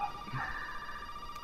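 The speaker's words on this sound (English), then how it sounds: "Someone's calling on the phone." A telephone rings in a video game, a steady electronic tone sustained through the short moment at a moderate level with faint background game sound.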